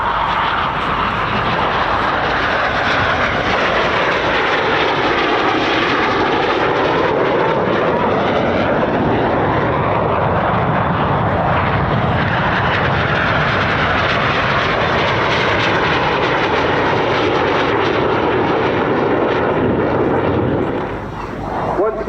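Red Arrows jets at the Bournemouth Air Festival fly barrel rolls and inverted passes, a loud, continuous engine roar that swells and sweeps in pitch as the aircraft pass, with announcer speech beneath.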